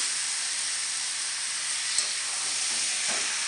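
Taro leaves are added to hot oil with turmeric and soaked raw chickpeas, producing a steady, close, continuous frying hiss that barely changes throughout.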